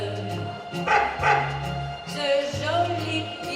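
Short yapping barks from a small dog, mixed into a French-language cabaret song at a 2010 charity cabaret show in Orp-le-Grand, with a few bursts sitting over steady music.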